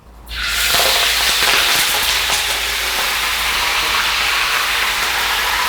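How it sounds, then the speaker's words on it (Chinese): Whole spices previously soaked in water and wine hit hot oil for Yibin burning noodles, bursting into a loud, steady sizzle and crackle that continues without talk. "将就这个油炸一下这个香料"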